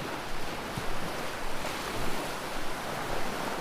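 Ocean surf washing in a continuous, even roar of breaking waves, moderately loud and steady with gentle swells in intensity and no voices.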